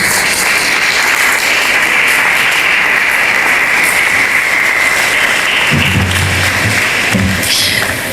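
Audience applause in a multipurpose hall at a university symposium in Jacmel, Haiti, a dense sustained clapping from a crowd that fills the space evenly, with a few louder thumps near the end.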